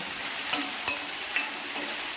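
Okra stir-fry with turmeric powder is stirred in a pan, a utensil tapping and scraping the pan about four times in an even rhythm over a faint sizzle.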